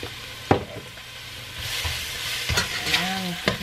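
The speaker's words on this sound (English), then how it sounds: "I'm going to go ahead and get that mixed up, sauteed" Food sautes in a pan with garlic powder, giving a soft sizzle with stirring scrapes and a few clinks, while a faint voice briefly sounds near the end.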